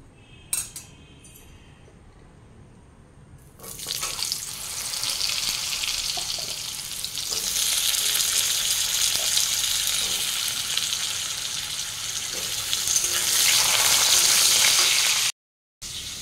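Diced potatoes, ridge gourd and tomatoes sizzle and crackle steadily in a hot pan after a quieter start of kitchen clatter, the hiss swelling louder toward the end with occasional utensil clinks.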